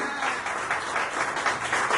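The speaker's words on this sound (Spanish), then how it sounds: "Denle un aplauso fuerte al Señor" A church congregation applauds, a dense, steady wash of many hands clapping together for the full two seconds, loud and close, with no clear voices above it.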